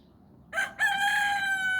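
A rooster crows loudly and close by, a short opening note followed by a long sustained cry, with no talking.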